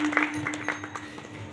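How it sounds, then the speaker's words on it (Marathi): A group of young children clap together at a devotional singing gathering, a soft, steady patter of hands at moderate distance with a faint hum running underneath. "या बालगोपाळ मंडळीच्या टाळ्या वाजवतात."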